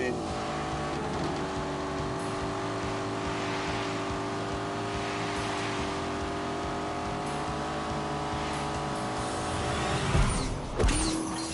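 Turbocharged Lamborghini with an automatic gearbox, driven in The Grand Tour video game, holds a steady loud engine drone with layered harmonic tones, then swells and shifts near the end as it revs.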